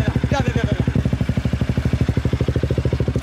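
A BMW or KTM motorcycle engine idles close by with a steady, fast pulsing throb, a brief voice heard over it at the start.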